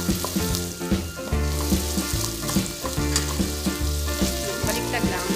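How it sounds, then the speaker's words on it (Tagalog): Chicken pieces frying and browning in a pan, a loud, busy, continuous sizzle and crackle with rhythmic bursts of spatter; no voices. "Hayaan lang to na mag-isa kaya maging brown konti"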